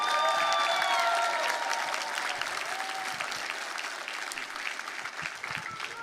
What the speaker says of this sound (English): let's make some noise for JoJo Domann coming out right now